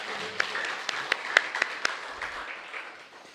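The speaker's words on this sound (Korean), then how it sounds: "하나님께 큰 박수로 함께 영광을 돌리겠습니다" A church congregation gives a short burst of applause during a Sunday morning service, scattered sharp claps standing out over a softer spread of clapping that fades within a few seconds.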